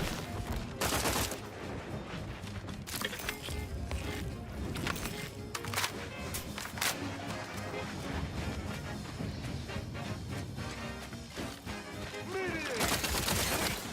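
An STG assault rifle fires in Outer Worlds 2, with rapid automatic bursts and crashing impacts packed densely over game music and effects, while someone talks over the action.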